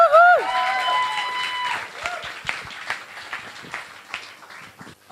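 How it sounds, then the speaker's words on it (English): Audience applause at a nerd night talk for presenter Bernadette, a burst of cheering voices over steady clapping that starts loud and gradually thins to scattered claps. "Can we please have a huge round of applause for Bernadette?"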